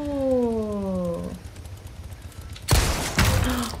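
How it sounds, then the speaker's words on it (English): Two loud, sharp gunshots in Resident Evil 4 Remake, fired at a board, come near the end after a descending tonal game chime, separated by about half a second. "Shoot the board first."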